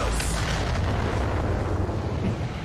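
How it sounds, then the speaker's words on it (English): A Majin Vegeta final explosion attack animation in a Dragon Ball video game bursts as a heavy, sustained roaring blast, loud and close with rumbling low booms throughout. "He literally, like, does the Majin Vegeta final explosion and actually goes Super Saiyan in his animation"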